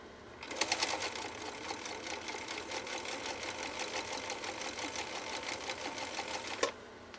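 A 1960s Husqvarna Viking 6440 sewing machine running a straight stitch, a steady fast mechanical whir and needle chatter that starts abruptly, holds an even rhythm for several seconds and then stops with a clunk.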